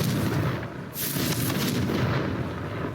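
A Confringo spell blast in the Hogwarts Legacy video game: a sustained loud booming, crackling explosion with rumbling low end and a sharp bright burst near the start, continuing for several seconds with no talking.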